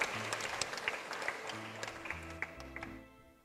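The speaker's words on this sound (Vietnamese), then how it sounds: "Xin cho một tràng pháo tay nữa để cảm ơn Đức Tổng, cảm ơn cha sở" Catholic parish congregation in Go Vap applauding to thank the Archbishop and the priests, a moderate round of clapping under low background sounds that tapers off near the end.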